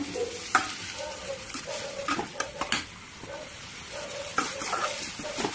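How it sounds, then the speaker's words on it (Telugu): Onion, green chillies and curry leaves frying in a pan, a steady sizzle broken by repeated spatula scrapes and clinks against the metal, close up, with no talking. "ఉల్లిపాయ పచ్చిమిర్చి కరివేపాకు వేసి కాసేపు వేయించుకుందాం"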